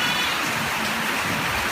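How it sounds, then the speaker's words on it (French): Steady rain falls outdoors in a continuous broadband hiss, a constant wash with no distinct drops standing out, heard alone. "Et la pluie tombe même maintenant."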